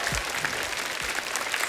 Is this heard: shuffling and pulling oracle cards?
no